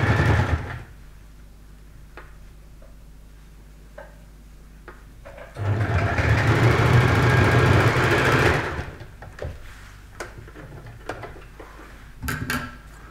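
A sewing machine runs for a few seconds stitching a lined zipper clutch bag, a steady mechanical whir between quiet stretches of clicks and handling noises.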